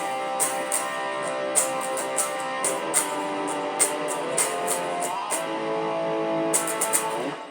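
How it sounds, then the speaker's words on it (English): Sustained distorted electric guitar power chords from a song ring out loud and thick, with a steady beat of drum hits punctuating them and no voices. "it's distorted guitar, and he's trying to fill up the space"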